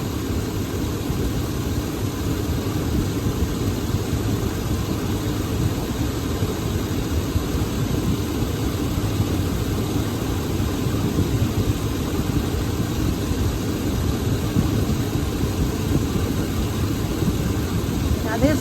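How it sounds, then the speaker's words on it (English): A 5.3-litre V8 engine runs steadily with a continuous low rumble throughout, fairly loud and close, with no distinct revving. "it sounds very good. It's a bulletproof motor"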